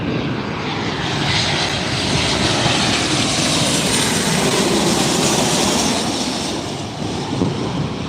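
Airliner passing low overhead on final approach to LAX, its engine roar loud and steady throughout with a broad rushing wash, swelling slightly mid-pass and easing toward the end.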